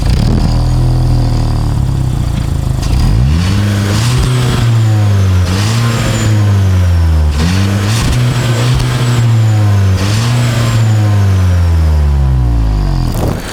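Volkswagen Virtus GT 1.5 litre petrol engine with a 7-speed DSG gearbox, its exhaust loud and close as it revs up repeatedly in four or five rising-and-falling sweeps with no talk.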